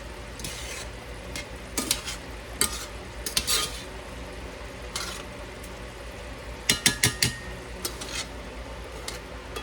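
Vegetables stirred in a pan with a sticky sauce over low heat, a soft continuous sizzle broken by scattered scraping and clinking strokes of a utensil against the cookware.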